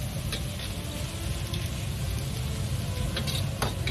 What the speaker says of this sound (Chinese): 再倒入切好的韭黄段翻炒